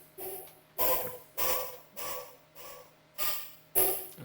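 Granular-processed cicada recording with chorus and tube effects, pulsing in roughly six bright, breathy bursts about half a second apart, taking on an eerie voice-like quality, alone.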